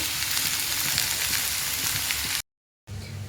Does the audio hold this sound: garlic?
yes